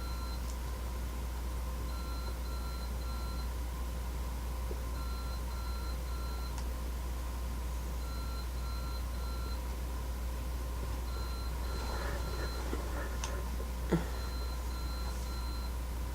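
A relative's alarm in another room gives repeated groups of faint, steady electronic beeps, separated by short pauses, over a constant low background hum.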